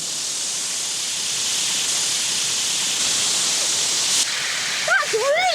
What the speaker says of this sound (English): this is spraying the water at a really high pressure,